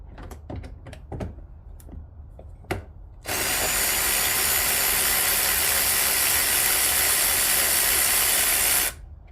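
A power ratchet or impact tool spins out a bolt on the thermostat housing of a 2014 Hyundai Sonata 2.0T, a loud, continuous whirring buzz lasting several seconds after a few metallic clicks and taps.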